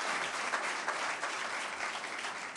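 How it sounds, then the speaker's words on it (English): A large audience applauds at a mosque dedication event, a dense, steady wash of many hands clapping that continues evenly throughout at moderate volume. "let's give him a warm round of applause"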